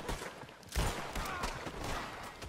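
Gunshots ring out in Red Dead Redemption, a flurry of sharp cracks with one loud report standing out amid a busy, noisy shootout.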